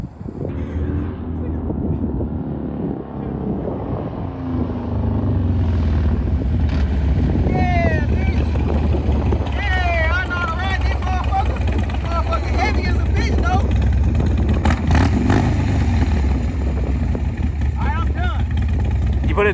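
A Harley-Davidson motorcycle is ridden for the first time, its low engine rumble running continuously and growing louder partway through, while people talk and shout over it.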